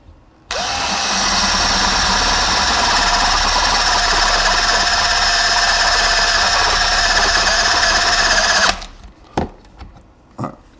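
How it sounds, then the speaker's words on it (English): A power drill with a step drill bit whines steadily for several seconds as it cuts a 1/4 inch hole through metal, then stops abruptly, followed by a few sharp clicks and knocks. "I'll go and do a 1/4 inch hole."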